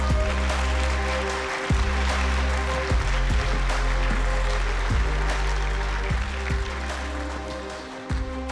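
Audience applause at a basketball discussion event, heard as a dense clapping wash partly buried under loud, pulsing background music with heavy bass notes that carry on throughout.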